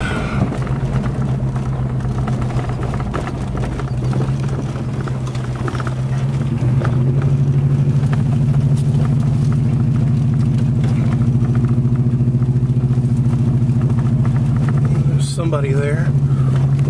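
A car rolls along a road near Tuxpan and turns left, its engine a steady low hum with faint patter. A voice talks over it throughout.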